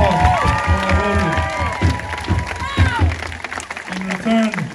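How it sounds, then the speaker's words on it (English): A crowd at a Tongan village drumming show at a Polynesian cultural center claps and cheers for volunteer drummers, loud mixed applause with children shouting and excited voices layered over it throughout. "How about a big round of applause?"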